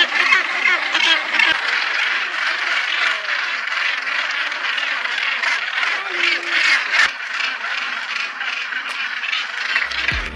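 Wild birds call continuously around a mating pair, a dense, raspy chorus of quacking and chattering close by, steady throughout with no talking.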